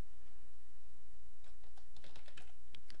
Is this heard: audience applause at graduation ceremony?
no